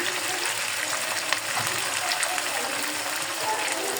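Chopped onion fries with tomato in a pan, giving a steady, even sizzle close by with a faint crackle throughout.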